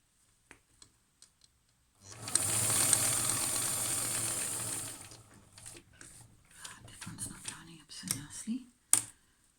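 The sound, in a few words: sewing machine stitching a mask seam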